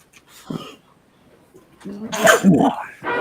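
In a courtroom, after a quiet stretch with a faint earlier noise, someone gives one sharp, loud sneeze, followed by a brief breathy sound.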